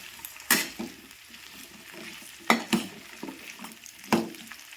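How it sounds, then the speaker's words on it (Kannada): Brinjal pieces frying in hot oil with a soft continuous sizzle, broken by a few sharp scrapes and clinks of a spoon stirring the pan, no voices. "ಇದು ಎಣ್ಣೆ ಒಳಗೆ ಒಂದು ಸ್ವಲ್ಪ ಬದ್ನಿಕಾಯಿನ ಫ್ರೈ ಮಾಡ್ಕೊಂಬಿಡೋಣ"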